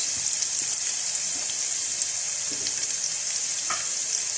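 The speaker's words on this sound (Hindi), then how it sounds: "थोड़ी देर फ्राई करने के बाद तकरीबन 2 मिनट मैंने फ्राई किया है। अब मैं डालूंगी शिमला मिर्च," Capsicum and chopped vegetables stir-fry in a pan for vegetable macaroni, a bright, constant sizzle close by with faint scraping stirs underneath and no talking.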